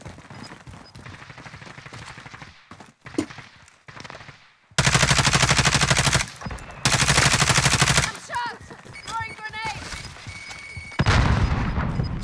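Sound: gunfire in the video game Warzone

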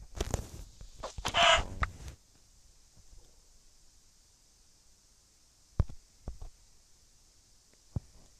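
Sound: chicken clucking in a video game

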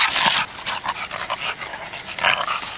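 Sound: dog panting during gun dog training

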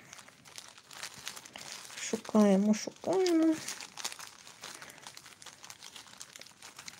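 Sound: plastic bags of diamond mosaic beads crinkling

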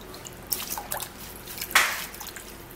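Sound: rinsing parsley under water

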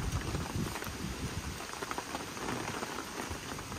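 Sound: rain falling during a rainstorm

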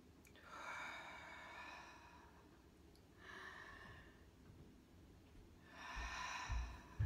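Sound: deep belly breathing

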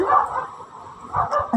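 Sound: dog barking outside at night

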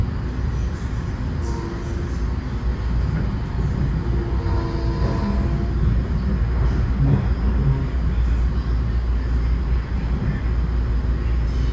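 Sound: LIRR M9 commuter train ride

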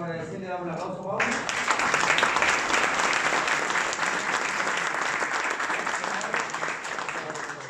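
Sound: audience applause thanking a speaker

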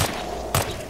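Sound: gunshot in Hitman Absolution video game

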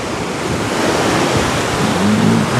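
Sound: sea waves and wind at the beach

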